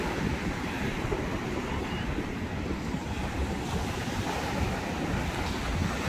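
A continuous roar of surf and wind, steady and broadband, like waves breaking close by on a shore.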